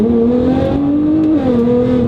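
A Nissan GT-R engine revs hard at high RPM, a loud, close, continuous mechanical howl whose pitch climbs and steps through gear changes over two seconds, with no talking.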